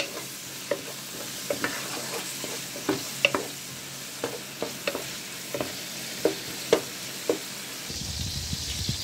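Squid and tomato are stir-fried in a pan, giving a steady soft sizzle under repeated sharp scrapes and taps of a spatula against the metal, with no voices.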